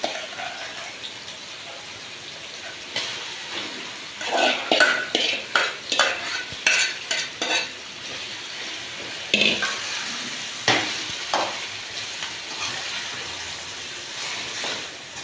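Marinated chicken frying with softened tomato pieces is stirred in a pan over medium flame. Bursts of rapid scraping strokes sound over a steady low sizzle, close and fairly loud, with no talking.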